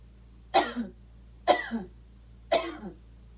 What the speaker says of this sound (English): that's just kind of forcing myself to cough and forcing that mucus to dislodge